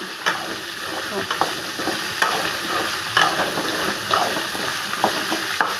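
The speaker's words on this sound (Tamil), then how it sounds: "இப்போது வெண்டைக்காய் போட்டுக்கிறேன். வெண்டைக்காய் நல்லா வதங்கி வரட்டும்." Okra (lady's finger) fries in a pan with a steady close-up sizzle. It is stirred throughout, and regular scraping strokes cut through the continuous crackle.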